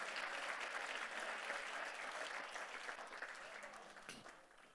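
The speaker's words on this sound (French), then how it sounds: "Tu peux applaudir le Seigneur." A church congregation applauds steadily during a French worship service, dense sustained clapping filling the room and tapering slightly near the end.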